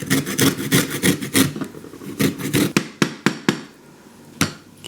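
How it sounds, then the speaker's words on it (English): A lemon is rubbed against a zester in a home kitchen, giving a run of quick rhythmic rasping strokes, then a few slower separate scrapes and a final one after a pause. "I'm going to zest this lemon"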